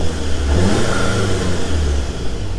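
A 2-liter turbocharged four-cylinder car engine revs, loud and close, with a rough, throaty drone that rises and holds before easing off slightly, and no talking over it.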